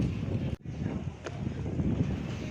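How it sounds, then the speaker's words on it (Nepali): Wind gusts across a bus park in Dhangadhi, Nepal, buffeting the microphone with a continuous roaring rumble. There is a brief dip partway through, and no clear talking is heard. "हावा मस्त चलिरहेछ"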